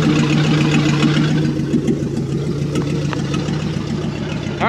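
A 1959 Ford F250 4x4 pickup idles with a steady low rumble and exhaust burble, continuous and close throughout, with a faint higher whine near the end.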